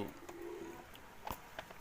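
Pigeons cooing softly in the rain, a low murmuring coo at a moderate distance with faint background noise and a few light taps.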